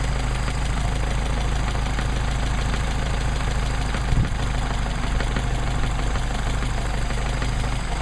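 A Mercedes 190SL engine with Solex PHH44 carburetors idling at roughly 800 to 1,000 RPM, a steady, loud, close rumble with a constant hum throughout and no talk.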